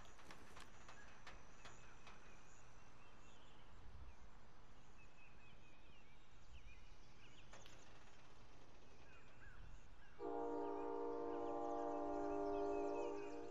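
Train in the Call of Duty: Modern Warfare game: low rumbling rail noise for most of the stretch, then a loud sustained horn blast near the end, with a few sharp clicks early on.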